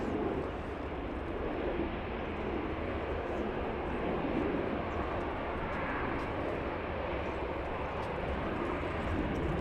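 A Boeing 757 jet climbing out after takeoff at Los Angeles International Airport, a steady, broad engine roar that holds loud and even throughout, with no talk.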